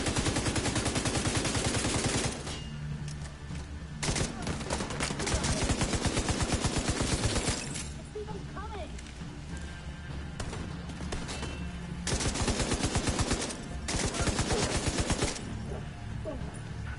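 Gunfire in the shooter game The Division 2 comes in loud, rapid automatic bursts separated by short lulls, with the rattling volleys repeating several times.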